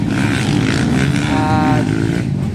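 Motocross motorcycles on a dirt track in Bataraza produce a loud, continuous engine roar with a brief rising rev in the middle, heard close and steady throughout.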